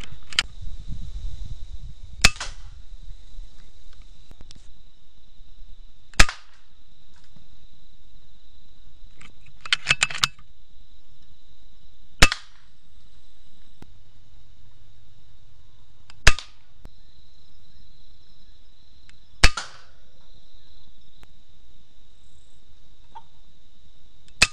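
FX Impact air rifle fired at rats, producing about six sharp, isolated cracks spaced several seconds apart over a steady high insect-like drone and faint low rumble, with no talking.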